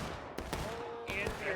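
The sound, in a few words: cannon and gunfire in Civil War battle video game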